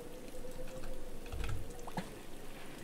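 Water from an automated water production setup in the game Starbound trickles and drips softly, a faint, quiet liquid sound with a few brief drops.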